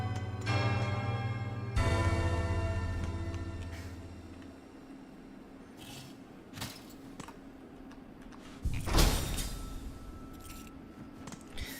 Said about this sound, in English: Well, there's that final bell.